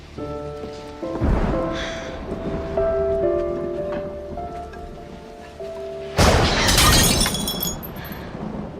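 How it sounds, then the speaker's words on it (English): Dishes shatter with a sudden loud crash in a movie scene, coming after rumbling thunder with steady rain underneath and faint music behind, with no talking. "The thunder startled me."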